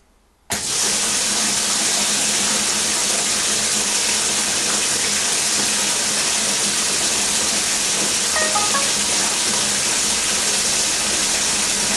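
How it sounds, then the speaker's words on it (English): Mains pressure water gushes into a tank through an opened solenoid valve, starting abruptly after a moment of quiet and continuing as a loud, steady hissing rush. "the solenoid valve has opened, allowing fresh mains pressure water into the tank"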